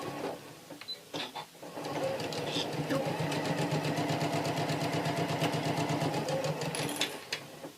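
A sewing machine stitches fabric for a boxed-corner project, running in a fast, even mechanical chatter close by for several seconds after a brief start, with faint background sounds around it.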